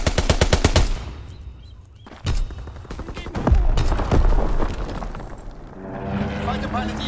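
Rapid machine gun bursts from a fighter plane's strafing run in Call of Duty: WWII, loud and close, with pauses between bursts, sharp single shots and a rumbling vehicle-like tail.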